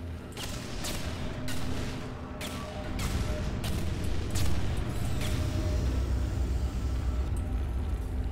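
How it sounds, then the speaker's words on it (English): In Portal 2, bombs explode in a string of sharp booms scattered over a steady low rumble, a few landing close and loud with the rest more muted, and no talking. "Those are bombs"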